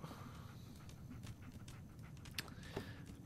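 Dog panting in the Fallout 4 video game, quick faint breathy rhythm under low ambient game noise, no speech.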